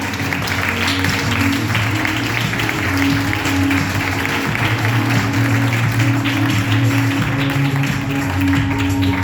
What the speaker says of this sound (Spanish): la recibimos y la acompañamos hasta el escenario con el aplauso a Sara Candela García